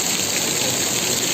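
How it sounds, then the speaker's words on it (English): Heavy rain pours steadily on a mountainside with trees, a dense, loud, unbroken hiss of falling water with no gaps. "Rain, pattering down, falling on the mountain, falling on the trees."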